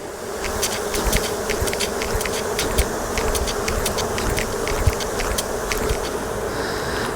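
Honey bees buzz steadily around a frame of honey being harvested from the hive, a dense close drone with individual insects zipping past the microphone throughout, no voices.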